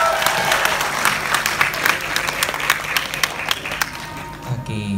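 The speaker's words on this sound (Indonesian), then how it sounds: "Boleh kasih tepuk tangannya." An audience applauds a guest speaker being welcomed at a public speaking event, dense crowd clapping close and fairly loud, sustained throughout, tapering slightly near the end.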